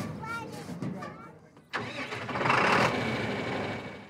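A farm tractor engine starts up at a pumpkin-patch farm on a fall afternoon, cranking briefly and catching into a loud, rough idle, with a person talking just before.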